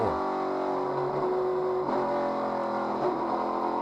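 A race car engine in an ARCA Menards Series race at Berlin Raceway drones steadily at a distance, its pitch wavering slightly as the throttle is held back rather than opened fully.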